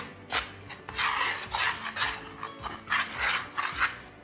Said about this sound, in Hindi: आटे में खमीर ऐड करके मिक्स करेंगे।